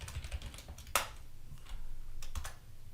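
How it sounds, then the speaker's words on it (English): A computer keyboard tapped in a quick, steady run of keystrokes with one louder clack, close and clear, no one talking. "You can type literally hello world."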